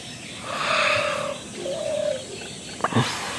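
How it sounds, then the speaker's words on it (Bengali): A dove coos outdoors on a cloudy morning near trees, a few soft, low hooting calls at moderate distance over faint background ambience. "ঘুঘু ডাকতেছে"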